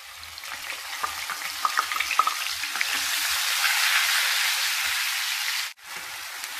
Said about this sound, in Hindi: प्याज को हम अच्छे से गोल्डन कलर आने तक भूनने देंगे।